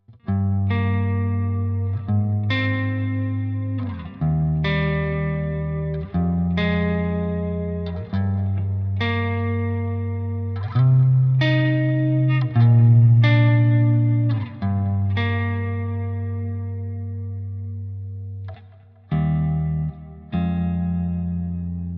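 Electric guitar strums chords through a crunchy, distorted Archetype: Rabea amp plugin with reverb and delay, ringing out and pausing between phrases.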